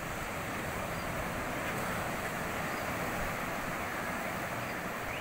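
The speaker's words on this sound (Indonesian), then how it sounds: "Deburan ombak di tanah Lot" Ocean waves breaking on the shore at Tanah Lot temple in Bali, a continuous roaring wash of surf with wind buffeting the microphone, steady and loud throughout.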